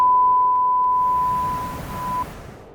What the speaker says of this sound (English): the indication noise, the beep comes on and stays on until the bombs drop